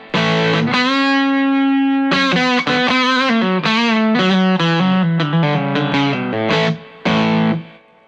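Electric guitar played through channel 2 of a Wampler Paisley overdrive pedal, with the tone at 2 o'clock: loud, saturated sustained chords and short riffing phrases, close and alone, with a brief gap near the end.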